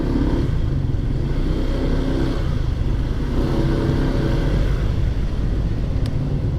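A motorcycle idles and rumbles close by with a steady low engine drone and traffic-like noise, apparently as it is brought to a stop and parked.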